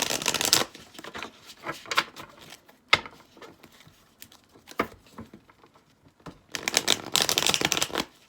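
Tarot cards being shuffled in repeated riffling bursts, crisp and close, with short pauses and a few sharp taps between rounds.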